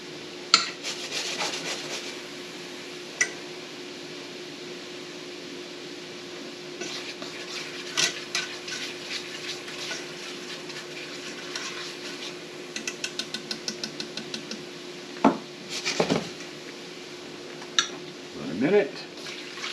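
Half and half and Parmesan are whisked in a pan over medium heat for garlic Parmesan tortellini. A whisk gives soft, quiet scraping and rubbing strokes in irregular bursts, with a few faster rhythmic runs.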